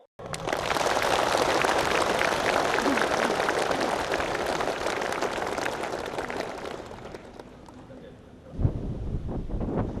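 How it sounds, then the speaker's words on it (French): Audience applause welcoming a meditation teacher at a gathering inside a prison, a dense, steady wash of clapping for about eight seconds that thins out, followed by a brief louder thump and quieter room sound. "Je vous invite maintenant à accueillir le professeur Sodarji par un chaleureux applaudissement."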